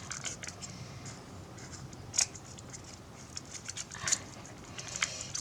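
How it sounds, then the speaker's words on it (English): Small scissors snipping excess paper strips from a folded Froebel star, heard as a few quiet, sharp, close-up cuts spaced apart over faint background hiss. "so you cut the excess off"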